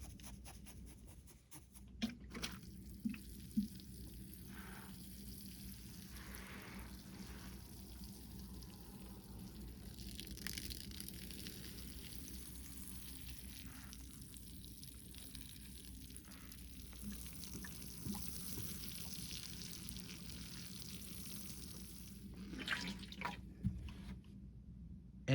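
Water poured onto the soil of a freshly repotted ginkgo bonsai, a steady soft trickle and patter running for about twenty-five seconds, close by and fairly quiet, with no talking.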